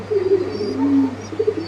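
White-faced mukhi pigeons at a pigeon farm in Tangail give low, soft cooing that rises and falls in a steady murmur over a faint background hum.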